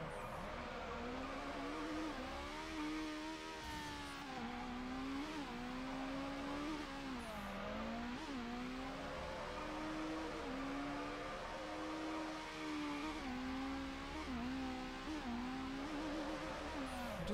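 A front-wheel drive car drifts in NFS Underground, its engine revving continuously with the pitch rising and falling as the throttle changes, a sustained loud racing drone with no one talking.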